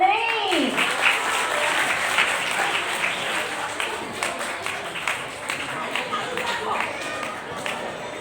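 An audience claps at a Gujarati Mother Language Day prize-giving ceremony for a reading competition. A voice is heard at the start, then scattered claps continue at a moderate level, with people talking underneath.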